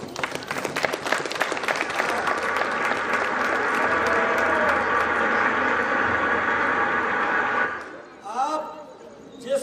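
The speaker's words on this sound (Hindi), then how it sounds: "अब बजा ताली।" An audience at a stage play, Panchlight, breaks into loud sustained applause for several seconds that fades out abruptly, followed by brief quieter sounds at the end.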